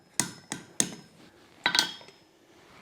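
A hammer striking a punch or chisel while forging steel, a few sharp metallic blows with ringing tails, three evenly spaced then a quicker pair, close and clear.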